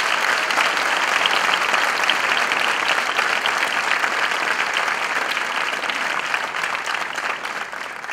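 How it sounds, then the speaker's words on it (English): An audience at a graduation ceremony applauds the parents, a dense, even round of clapping that fills the room and tapers slightly near the end. "Please join me in a brief round of applause for our amazing parents."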